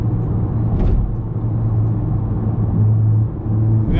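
Cabin view of a 2021 Honda Accord Sport 2.0T with a K&N intake and stage 3 tune under way, a steady low engine drone and road rumble with a slight rise in revs midway.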